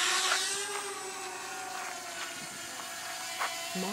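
A DJI drone hovers just after takeoff, its motors giving a steady high whir with faint pitch wobbles, fairly quiet and constant throughout, with no talking.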